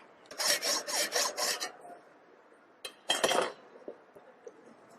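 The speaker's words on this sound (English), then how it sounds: "Now cut and remove this slug material." A hand file or saw cuts away metal slug material during fitting work on male and female parts, bursts of harsh rhythmic rasping strokes, four quick strokes then a pause and another short run, close and without talk.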